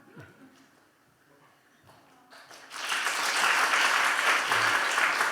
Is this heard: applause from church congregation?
yes